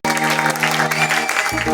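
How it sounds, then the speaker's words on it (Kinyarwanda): An audience claps at a singing performance, giving a brief burst of dense, steady applause that blends with sustained music and lasts under two seconds. "mubakomera amashyi mubakubire mu ngaro"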